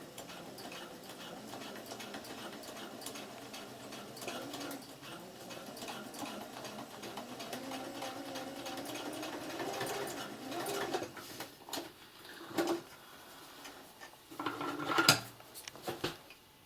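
A sewing machine stitches a fabric face mask with contrasting thread, running in a steady close whir for several seconds, then slowing into a few short bursts with clinks as it stops.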